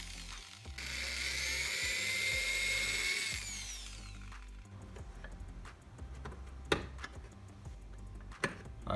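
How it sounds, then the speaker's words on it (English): A power drill whines steadily for about four seconds while boring a hole during garden tool rack construction, then stops, leaving scattered clicks and handling taps. "I'll go ahead and drill this hole out."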